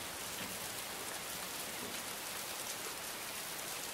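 Heavy rain falls steadily and loudly, a dense continuous hiss of drops on surfaces with no pauses and no voices.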